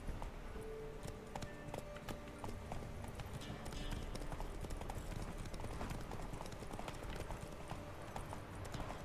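Roach, a horse in The Witcher 3, gallops with a fast, continuous run of hoofbeats against a busy game-world background, steady and fairly close throughout.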